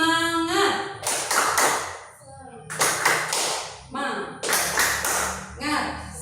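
A small group of three performs the rhythmic 'tepuk semangat' clap in a classroom session: bursts of loud patterned clapping in several rounds, alternating with a woman's sung or chanted voice.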